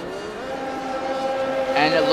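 A race car engine whines and shifts pitch on the Zandvoort circuit in a racing video game, a steady onboard drone rising through gears, loud and close, with a voice talking over it.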